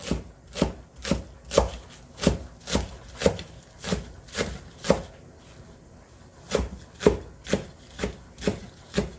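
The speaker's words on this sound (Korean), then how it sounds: "그래서 쪽파 쫑쫑 썰어서" Green onions are chopped finely with a knife on a board, giving crisp, evenly spaced thuds in a steady rhythm with a short pause midway, close and clear with no talk.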